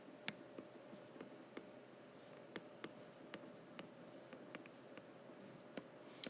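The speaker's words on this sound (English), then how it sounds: "I'm going to write 3." Pen or pencil writing on paper while working through an equation: faint, quiet scratchy strokes with sharp little taps at irregular intervals, close and alone, no talking.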